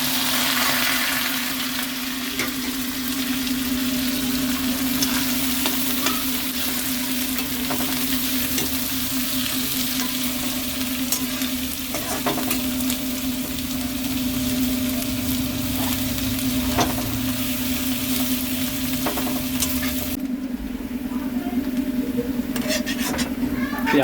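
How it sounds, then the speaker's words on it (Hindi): Onions sizzle and fry steadily in hot oil with cumin and cardamom for an egg curry, a constant close crackle with a low hum beneath, with occasional stirring clicks and brief faint talk. "प्याज हमारी भुन चुकी है।"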